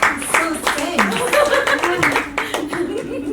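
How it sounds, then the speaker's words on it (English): Audience members at a panel discussion on entrepreneurship clap briefly while people keep talking and chuckling over the handclaps. "Clap for her."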